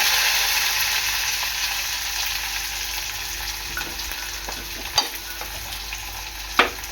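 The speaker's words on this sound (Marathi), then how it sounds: "आता इथे कढईमध्ये तेल आपलं चांगलं गरम झालेलं आहे। आता मी कढीपत्ता टाकते," Curry leaves and onion fry in hot oil in a kadhai for sukka chicken, giving a steady, close sizzle with two sharp pops near the end and no talk.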